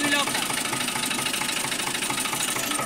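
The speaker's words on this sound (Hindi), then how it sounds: "स्टार्ट थी गया ट्रैक्टर" A tractor engine that has just started idles with a steady, close, rough chugging drone that holds throughout.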